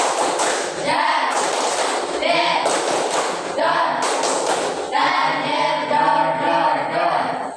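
Children in a math classroom clap together in bursts, sharp group claps breaking into a faster rhythmic patter, with voices mixed in throughout.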